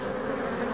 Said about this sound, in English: just some bees coming and going from the top entrance of the hive